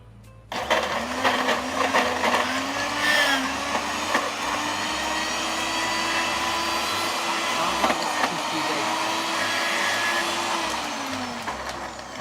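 A blender whirs loudly and continuously as it blends dates with milk in a kitchen, a steady close motor drone with a slight pitch wobble, starting abruptly and running without talk.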